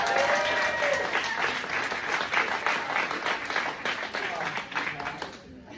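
A comedy club audience breaks into applause and whoops at a stand-up set, rapid dense clapping that swells early, carries on steadily and thins out by the end, with some voices and a shout mixed in.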